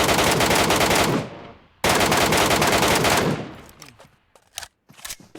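Automatic weapon fire in the video game PUBG Metro Royale: loud, close bursts of rapid shots, two long sustained volleys separated by a short gap, trailing off into scattered single shots and echoes.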